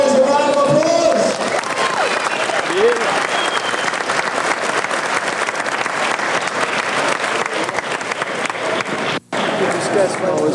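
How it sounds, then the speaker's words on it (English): Audience applause for sambo fighters at a competition: steady loud clapping from a crowd that fills the whole stretch, with a short break near the end. "Let's give both fighters a round of applause."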